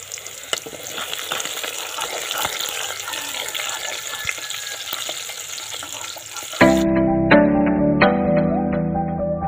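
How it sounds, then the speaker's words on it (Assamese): Sliced onions fry in refined oil in a pan, a dense steady sizzle that turns to a louder, brighter crackle near the end, with no talking. "পেঁয়াজখিনি ধুনীয়াকৈ ফ্ৰাই হৈ গৈছে"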